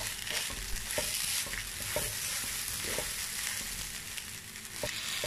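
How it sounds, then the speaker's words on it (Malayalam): Cardamom pods, black peppercorns, cloves, a large piece of cinnamon and a bay leaf sauté in a pan for pineapple pulao, giving a steady close sizzle with the scrape and clack of stirring throughout. "എട്ട് ഏലക്കായ, 10-12 കുരുമുളക്, 8 ഗ്രാമ്പൂ, 1 വലിയ പീസ് വട്ട, 1 വയനയില ഇപ്പം ചേർത്തിട്ട് വീണ്ടും വഴറ്റുക."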